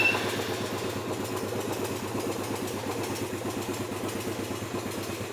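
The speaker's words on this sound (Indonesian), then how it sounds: "Start engine ini untuk menyalakan mesin motor." A motorcycle fitted with an android smartkey system idles after being started, a steady low rhythmic putter with fast regular pulses, close and even for several seconds, no talk.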